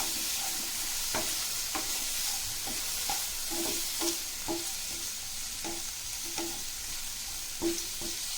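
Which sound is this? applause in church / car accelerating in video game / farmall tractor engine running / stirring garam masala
stirring garam masala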